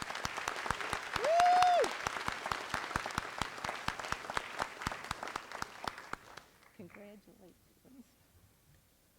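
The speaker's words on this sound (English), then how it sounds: "Please give a round of applause" A crowd at a high school senior awards ceremony claps steadily for about six seconds, with one loud whoop early on, before the applause stops and a speaker's voice continues alone.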